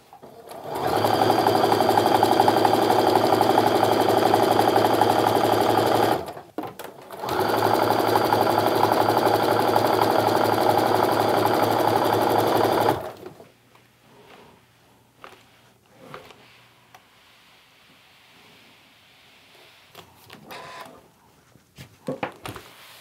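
Sewing machine stitching quilt strip pieces for a herringbone pattern, two loud steady runs of several seconds with a brief pause between, then quiet handling noises afterward.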